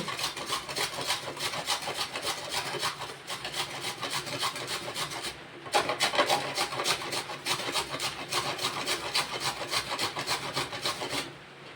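Coconut grated by hand for modak filling, a steady rhythmic rasping scrape that repeats stroke after stroke, close and continuous with one brief pause midway.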